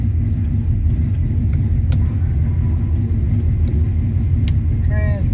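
A boosted LS engine in a second-generation Camaro rumbles loudly and steadily at close range, holding a deep, constant drone with a brief whine at the very end.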